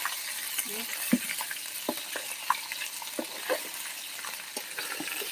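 Food sizzles steadily in a pan for a roast dish, with irregular scraping clicks of stirring scattered throughout, close by and moderately loud.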